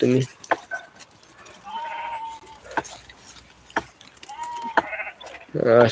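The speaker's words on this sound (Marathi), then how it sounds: "खाली पाय चरताय मेंढ्या" Grazing sheep bleat nearby, a loud quavering call at the start and another at the end, with scattered clicks and a few voices in between.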